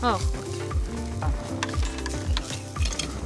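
Onion pieces and cumin sizzle and crackle in hot oil in a pan with steady frying noise, broken by repeated stirring scrapes and light utensil clinks, close and loud throughout.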